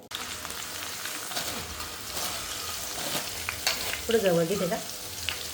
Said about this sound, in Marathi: कढाईत खूप तेल गरम झालं होतं, तर मम्मी जो ठेचलेला होता लसूण तो त्यात टाकला